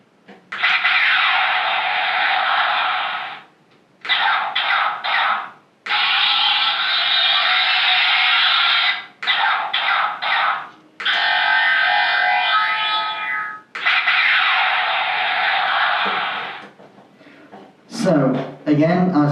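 Power Flip Optimus Prime toy from Transformers: One playing loud, distorted electronic voice lines and effects in the full Power Flip armor mode, with several bursts separated by short pauses and a brief scrape at the end.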